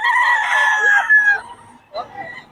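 A gamecock rooster offered for sale at a Bocaue poultry market gives one loud, close crow lasting over a second, followed by a short cluck.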